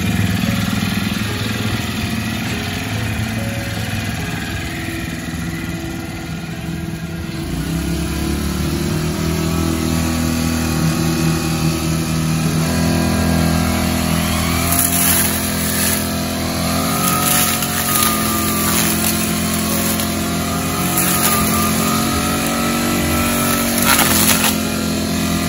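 A small petrol grass trimmer engine runs steadily and fairly close, droning at a constant pitch with a few brief rises in revs.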